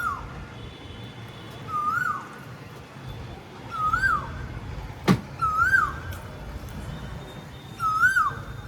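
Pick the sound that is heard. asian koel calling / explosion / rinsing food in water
asian koel calling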